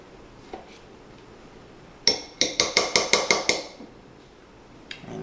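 A spoon clinks against a glass while yogurt is layered in for a fruit parfait, making a quick run of about eight bright, ringing taps close by, with quiet before and after and no talking.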